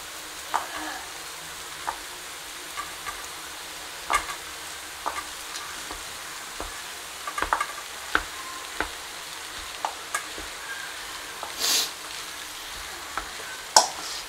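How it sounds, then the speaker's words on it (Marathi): Cooked rice stirred and fried with egg in a pan, a continuous sizzle under irregular taps and scrapes of a spoon against the pan, loud and close, with no talking. "त्याच्यामध्ये आपण आता राईस घालूया."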